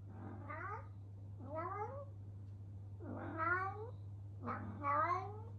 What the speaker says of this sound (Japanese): 猫の可愛い鳴き声参戦。